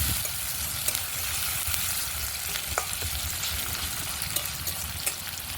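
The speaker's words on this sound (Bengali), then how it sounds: "পেঁয়াজগুলোকে ভালো করে ভেজে নেব" Sliced onions and dried red chillies fry in oil in a kadai, a steady close crackling sizzle with occasional sharp pops and light stirring scrapes throughout.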